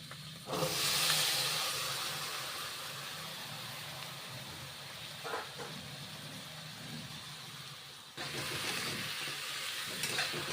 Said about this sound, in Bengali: ঢ্যাঁড়সগুলো দিয়েছি, ভেন্ডিগুলো দিয়ে কষে নিচ্ছি।